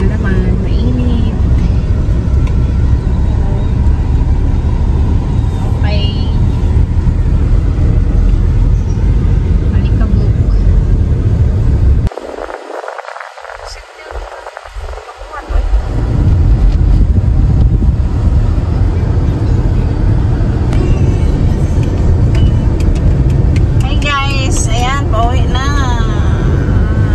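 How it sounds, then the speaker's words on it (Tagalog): Road traffic and engines fill a street in Bocaue, Bulacan with a loud, continuous rumble, broken by a few seconds of muffled quiet midway before the engine noise returns just as strong. "Traffic na naman."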